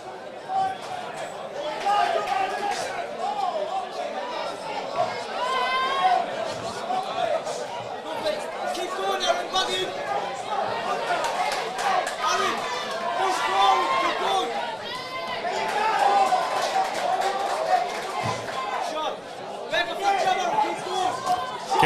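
A home crowd at a boxing club show chatters steadily, a dense murmur of many voices filling the hall at a constant level with a commentator talking over it.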